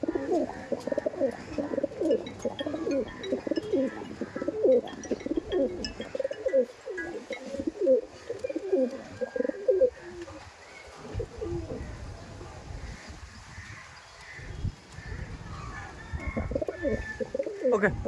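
Teddy Kamagar pigeons in a loft coo in low, rolling, repeated calls close by, several birds overlapping, thinning out midway before resuming.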